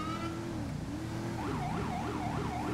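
A police siren wails in a video game roleplay, its tone sweeping up and down in repeated cycles over a steady car engine drone, loud and close with no talking.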